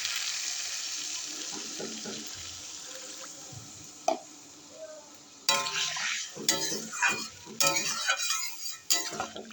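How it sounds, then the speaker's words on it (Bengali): Water poured into a pan of sautéed potatoes while cooking rohu fish curry, a faint hiss at first, then louder bursts of splashing and sizzling as it hits the hot pan. "জল দিয়ে দেবো।"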